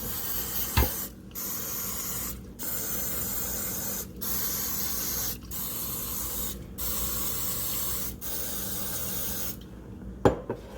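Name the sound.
non-stick cooking spray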